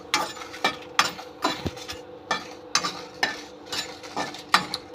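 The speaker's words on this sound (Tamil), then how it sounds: "சும்மா அப்படியே 4 பெரட்டுனாக்கா நல்லா வறுபட்டுரும்" Spices dry-roast in a pan for idli podi while being stirred. Close, rhythmic scraping strokes repeat about twice a second with a faint clatter between them.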